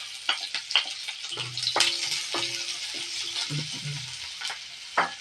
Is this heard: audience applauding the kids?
no